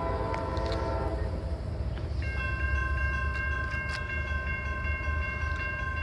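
Westbound freight train I157 passes at a Norfolk Southern branch rebuild in Voorheesville, with a continuous low rail rumble and sustained multi-tone horn blasts sounding from moderate distance.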